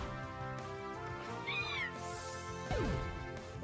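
A cat meows in a video game, sounding over dense, sustained game music with tonal chimes. A couple of drawn-out meows stand out partway through, and no one speaks.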